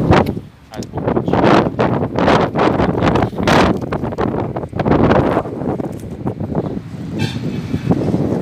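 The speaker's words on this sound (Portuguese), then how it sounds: "Ventando muito" Strong wind roars and buffets continuously at a reservoir wall fishing spot, with loud gusts rising and falling throughout.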